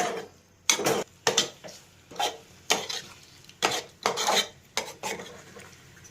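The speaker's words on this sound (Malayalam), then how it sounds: "ഇനി നമുക്കത് ഒന്ന് ഇളക്കാം." Repeated scraping stirs of rambutan pickle in a pot, about a dozen strokes in an uneven rhythm, with a soft bubbling spice paste underneath.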